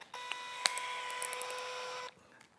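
A cordless drill spins a tapered reamer for Windsor chair work, a close, steady motor whine lasting about two seconds before it cuts off abruptly, with a light click at the start.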